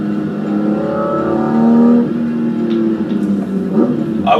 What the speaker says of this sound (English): the engine really has a good tone